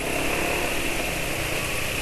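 Motorcycle engine running during an engine oil test, a steady buzzing drone held at constant loudness throughout, close and continuous with no talking.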